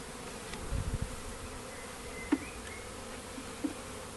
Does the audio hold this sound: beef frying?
no